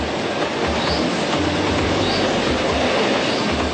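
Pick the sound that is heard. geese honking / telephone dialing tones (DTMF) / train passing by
train passing by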